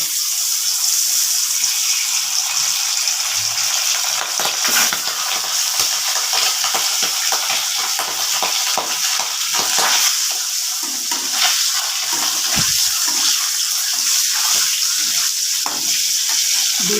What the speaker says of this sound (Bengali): এখানে কড়াইতে তেল দিয়ে দিয়েছি তেলটা গরম হয়ে গেছে এখন ডিমটা ভেজে নেব